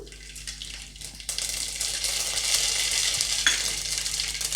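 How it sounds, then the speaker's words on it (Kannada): Mustard seeds hit hot ghee in a pan for khara pongal, bursting into a loud, steady sizzle that carries on to the end, with no voices. "ಈಗ ಸಾಸಿವೆ ಹಾಕೊಂಡ್ಬಿಡೋಣ"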